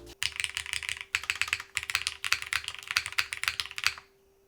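Rapid typing on a Cinque 55 mechanical keyboard fitted with milky yellow switches, dense clacking keystrokes in continuous bursts, close up and alone, ending abruptly.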